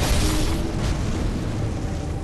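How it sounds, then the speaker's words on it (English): A fiery explosion in Bloodborne hits the player character, producing a dense, loud roaring blast of crackling flame and rumble that holds steady for the full two seconds. "Why am I blowing up with fire?"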